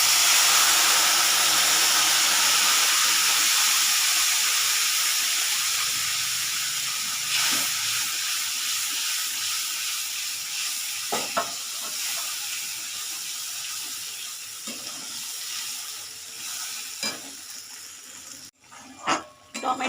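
Tomato and cashew paste dropped into hot oil left from frying potatoes, a loud, dense sizzling hiss that slowly fades and thins, with a few soft stirring knocks near the end.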